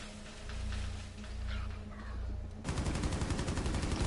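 Rapid automatic gunfire in Rainbow Six Siege, loud, dense and close, erupting abruptly after a stretch of quieter in-game ambience with scattered shots.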